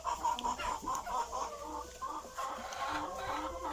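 Hens, roosters and guinea fowl cluck and chatter together in a coop run, a busy overlapping flock murmur with short squawks rising now and then.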